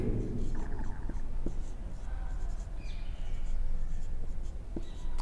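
Marker writing on a board during a Hindi chemistry lesson on carbohydrates, with short scratchy strokes and taps in an irregular rhythm over steady room noise, close by and fairly quiet.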